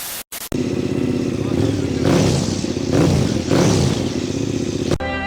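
A 2021 KTM 1290 Super Adventure R fitted with a Dominator HP7 exhaust revving hard: a loud, close, continuous engine roar with several surging throttle blips, following a brief cut-out at the start.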